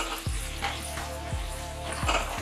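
Finely chopped small onion sizzling in a hot pan on medium-high flame while being stirred for vegetable soup, a steady frying hiss with a few soft scraping strokes, no talking.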